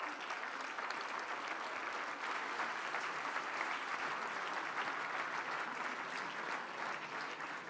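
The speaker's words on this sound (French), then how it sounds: "Je pense qu'on peut aussi les applaudir." Sustained applause from a lecture audience, steady and dense clapping that holds at an even level throughout with no talk over it.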